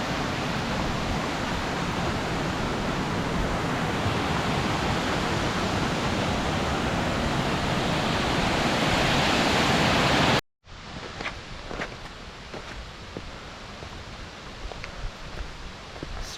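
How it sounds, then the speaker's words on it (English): Crystal Cascade waterfall in the White Mountains of New Hampshire roars as a loud, constant rush of falling water, then cuts to a quieter stretch of softer background noise with faint knocks. "to Crystal Cascade Waterfall."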